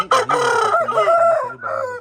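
A one-year-old rooster crows loudly and close, one long harmonic call with rising and falling pitch, followed by a short clucking tail.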